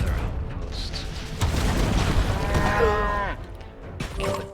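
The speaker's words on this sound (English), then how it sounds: "Kill the cow there." A cow lowing in the strategy game Siegecraft Commander, a drawn-out bovine moo with a falling pitch near the middle, heard over rumbling game effects and booms, with another short animal call near the end.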